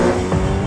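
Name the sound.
Ariel Nomad car with Honda K24 engine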